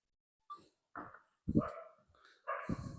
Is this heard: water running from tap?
no